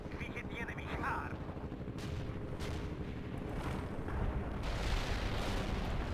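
Heavy artillery fire in the video game World in Conflict, dense rumbling blasts and booming impacts rolling continuously, with a distant voice muttering under the barrage.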